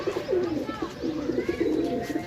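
Teddy pigeon cooing close by, a steady run of soft, low, rolling coos.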